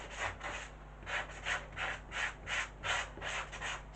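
Hand sanding of a piece of furniture under restoration, about ten steady back-and-forth rasping strokes at an even rhythm, close and moderately loud, with no talk.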